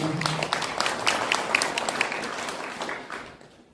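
Audience applause at a Korean academic seminar, a crowd clapping with some distinct individual claps standing out, tapering off toward the end.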